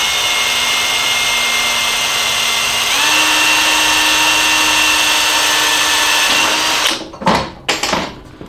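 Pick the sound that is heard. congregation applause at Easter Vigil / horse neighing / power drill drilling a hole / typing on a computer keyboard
power drill drilling a hole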